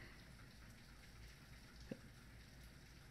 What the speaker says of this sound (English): By the way, if you can hear the rain, pardon the rain.